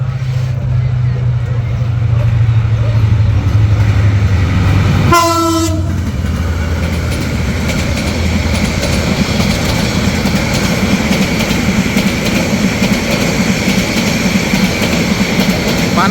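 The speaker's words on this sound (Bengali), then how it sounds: "একটা ট্রেন অলরেডি পাস করছে একটু আপনাদের দেখাই" A train passes through a busy station platform crowded with waiting passengers at Narsingdi, Bangladesh, a horn blast sounding midway over steady rumbling rail noise and crowd murmur that continue throughout.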